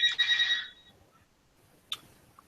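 A telephone rings with a bright trilling bell burst, then falls quiet before a short second chirp, heard fairly close in a quiet room.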